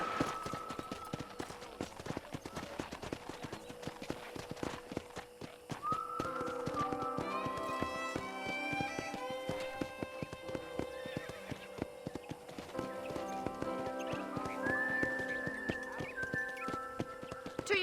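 A horse in the video game Red Dead Redemption clip-clops along steadily and whinnies loudly twice over a busy rhythm of hoof taps.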